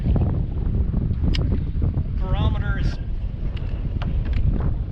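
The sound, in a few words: strong wind outdoors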